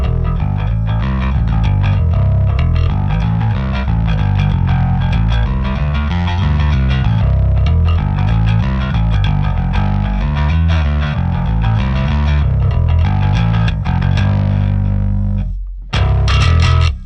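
A thick, warm ESP LTD Phoenix-1004 electric bass with a vintage-style tone plays a steady run of low, rounded notes with a slightly overdriven edge, loud and continuous, cutting off briefly near the end.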